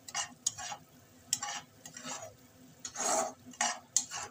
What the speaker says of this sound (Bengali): মশলাটা কষানো হয়ে গেছে আমার